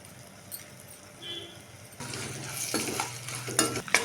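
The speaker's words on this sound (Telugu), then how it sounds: "ఇప్పుడు తాలింపు గింజలన్నీ బాగా వేగిపోయినాయి" Near silence gives way to a sudden sizzle as tempering seeds, asafoetida, curry leaves and turmeric fry in hot oil for lemon rice, with a few utensil clinks and stirring scrapes over the crackle.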